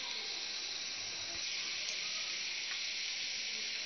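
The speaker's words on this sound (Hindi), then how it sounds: "हमने लहसुन को लाइट ब्राउन करना है" Garlic frying in oil until light brown for masoor dal: a steady, even hiss of sizzling with no pauses, fairly quiet and alone without talk.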